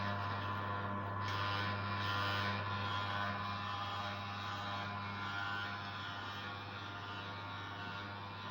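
A household electric oilseed press runs while extracting peanut oil, giving a steady low mechanical hum with a faint grinding, ratchet-like texture. It is quiet and continuous, with no voices.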